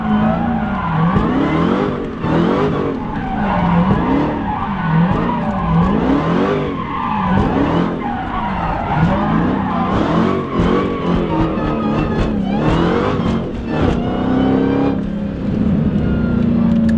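A Dodge SRT Hellcat drifting on a street, its tires squealing in repeated wavering sweeps over a loud, constant engine roar that surges and revs throughout, close and continuous with no talk.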